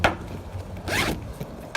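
Zipper on a new canvas cargo extension for a HMMWV Humvee: a few quick, close zip strokes with one longer pull in the middle, rasping and dry, with no talk.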